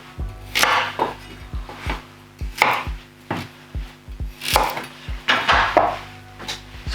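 A knife chops red pepper into small chunky squares on a cutting board, giving a steady run of sharp, close thuds and clicks with no talk.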